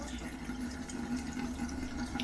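A toothbrush cleaning station runs its self-wash cycle with water, giving a steady, even rush of flowing water with a low mechanical hum underneath, close and continuous for the whole stretch.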